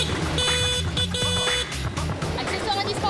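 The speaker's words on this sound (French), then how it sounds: "Accessoire indispensable, le klaxon." Several horns honk in busy Vietnamese street traffic, sustained high toots starting and stopping in overlapping bursts over a rumble of engines, with voices talking underneath.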